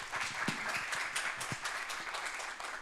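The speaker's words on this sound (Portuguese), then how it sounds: "Peço uma salva de palmas para a nossa convidada." A seated audience at a Saturday-morning event applauds a guest, with moderate, somewhat faint clapping and a few sharper individual claps standing out.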